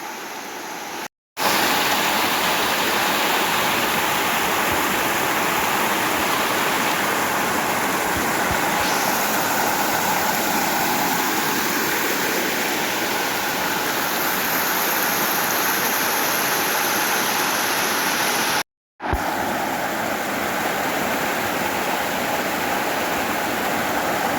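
Fast water pours down a waterfall feeding the South Mills River on a forest trail, a loud continuous rushing roar heard up close, briefly cut out twice.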